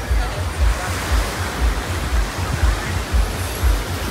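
Sea waves rolling onto a half-empty beach in Odessa on a windy day, a steady roar of surf and wind with rhythmic low swells breaking every half second or so, close and fairly loud throughout.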